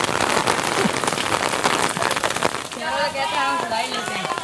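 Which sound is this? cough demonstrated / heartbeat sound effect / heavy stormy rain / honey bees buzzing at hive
heavy stormy rain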